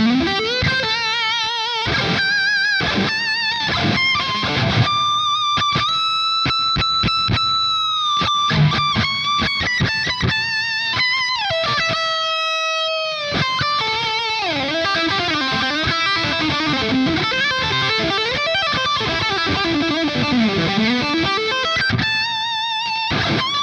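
Electric guitar through a Revv Generator 100R amp with reverb plays fast distorted riffs, sustained notes and sweeping bends, continuous and loud with a lingering reverberant tail, no voices.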